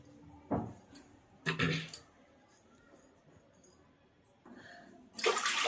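Water splashes into a pressure cooker holding moong dal in a home kitchen, a few short separate pours with quiet pauses between and a louder rush at the end.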